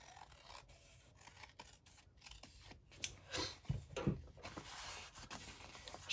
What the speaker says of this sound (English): I might trim just a tiny bit off right here just with my scissors